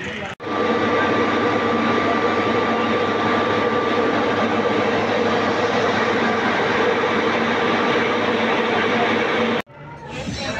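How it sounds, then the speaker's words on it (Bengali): The Kanchanjunga Express running on new LHB coaches, a loud steady rolling roar from the moving train that holds for nearly the whole clip, broken by brief drops at the start and end. "পুরো নতুন LHB কোচ কাঞ্চনজঙ্ঘা এক্সপ্রেস আজ থেকে হয়ে যাচ্ছে LHB।"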